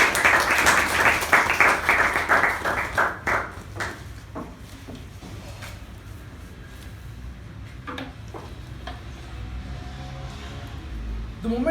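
Meeting applause welcoming a Toastmaster to the floor: a dense burst of clapping that fades over about four seconds into scattered late claps and quiet room noise.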